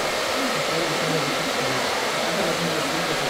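Relax Comfort low-noise hair dryer running steadily with a broad, even airflow hiss and a soft motor hum, close and constant throughout.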